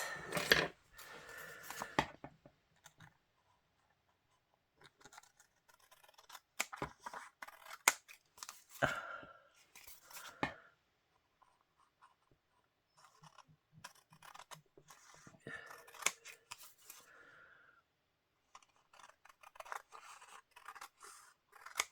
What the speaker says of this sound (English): we'll cut around the edges again to trim off the excess